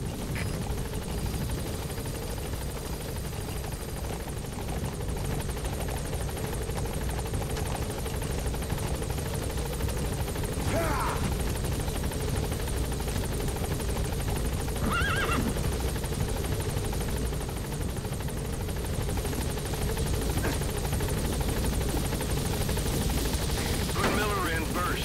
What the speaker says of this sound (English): The chopper's waiting.